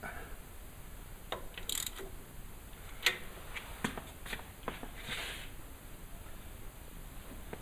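The 3-point hitch lever on a John Deere 4044M tractor is adjusted with a tool, giving sparse, faint metallic clicks and taps over a quiet background with a steady high hum.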